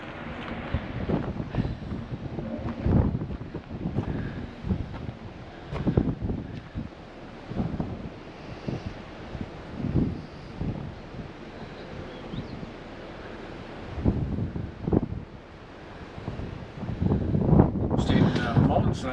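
Strong, cold wind coming down over mountains buffets the microphone in loud, gusty roars that rise and fall, with a voice speaking over the rushing air.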